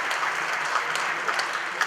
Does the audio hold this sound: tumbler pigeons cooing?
no